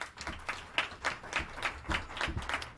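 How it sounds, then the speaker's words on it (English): A studio audience at an El Monte talk show gives a round of applause, heard as moderately quiet, uneven bursts of hand claps from a small crowd, rising and falling in waves. "Let's have a round of applause"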